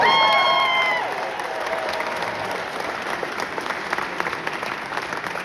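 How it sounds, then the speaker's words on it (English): A crowd applauds John Stockton at a political rally, with loud, dense clapping and some cheering at first that settles into steady, sustained applause. "A round of applause for John Stockton."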